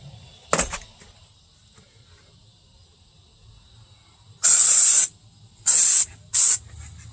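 A can of wasp spray fires into a 1993 Chevy/GMC Suburban in three loud, close hissing bursts: one long blast, then two shorter ones, with a brief thump earlier and near-silence between.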